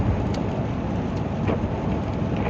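Steady rain hissing down with a low rumbling undertone, a dense continuous patter close by and no voices.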